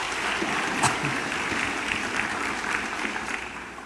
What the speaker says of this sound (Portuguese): Salva de palmas para os meus atores aqui